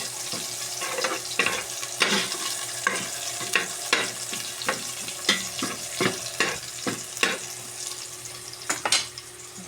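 Onions sautéing in a pan for sinigang sa miso, with a steady sizzle punctuated by frequent scraping stirs of the utensil against the pan, close and fairly busy.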